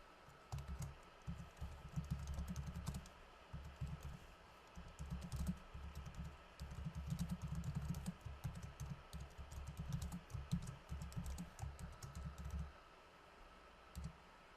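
Keys clatter on a computer keyboard as a comment is typed into CAM software: quick, irregular bursts of soft clicks, close and steady, with brief pauses between runs.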